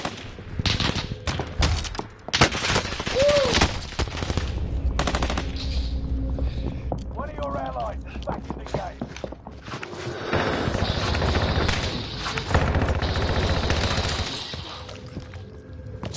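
Sustained gunfire in Call of Duty: Warzone, with dense bursts of automatic weapons and single shots filling the whole stretch, loud and close, mixed with game effects and occasional voices.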